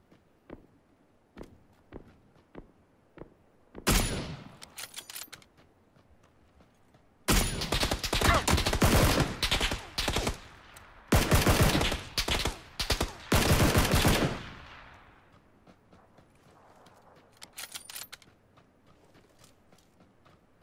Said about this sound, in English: I will have to shoot at this guy